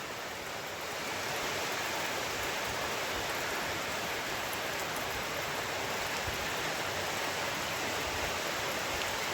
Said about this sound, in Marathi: आवाज असेल तुम्हाला पत्र्याचा किती जोरात पाऊस पडतोय